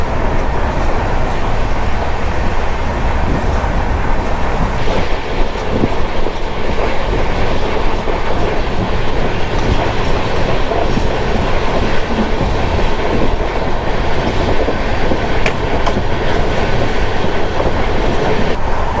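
The Hapa Duronto Express runs along the rails with a loud, continuous rumble and steady clickety-clack of the wheels, plus occasional faint squeals.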